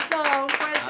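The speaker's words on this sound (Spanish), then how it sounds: "Un fuerte aplauso" Applause on a Spanish-language community radio show, a brief burst of hand claps under a voice speaking.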